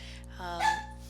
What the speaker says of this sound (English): Oops, sorry, that's my dog.